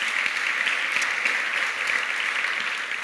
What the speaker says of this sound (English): I think we should give a round of applause to Madeleine because this model is amazing